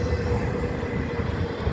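Southbound CN intermodal freight I194, led by ET44AC and ES44AC diesel locomotives, rumbles past steadily, a continuous close roar of engines and rolling cars.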